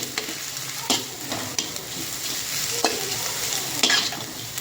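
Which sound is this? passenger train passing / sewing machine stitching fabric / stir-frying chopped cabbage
stir-frying chopped cabbage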